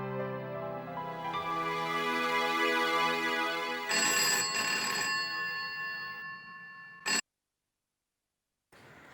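A phone ringtone rings as a steady tonal melody under background music in a home drama scene, turning brighter and denser midway before cutting off abruptly into silence.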